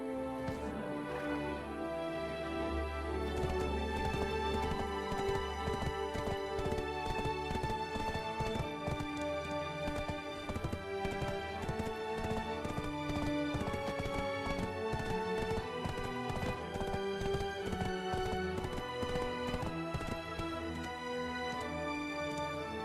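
Horse hooves clip-clopping beside a wagon in the Black Desert Online video game, an even, continuous trotting rhythm that runs the whole stretch underneath a loud, dense layer of game music.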